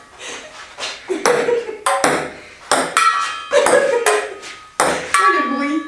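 Ping-pong balls are struck with odd objects such as a metal trowel in a playful game, giving a series of sharp ringing pings and clacks at an irregular rhythm, close, with people talking between hits.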